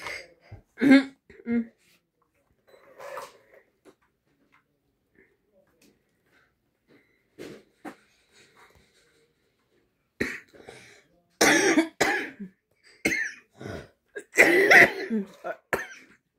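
Several short, sharp coughs and throat-clearing bursts scattered through quiet stretches, clustering more densely toward the end, with a few brief voices in between.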